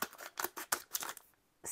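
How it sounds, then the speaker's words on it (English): Scissors snip through paper several times in quick bursts up close, each cut sharp and crisp, followed by a brief pause and one last rustle as the piece comes free. "let me just take a pair of scissors and cut this out"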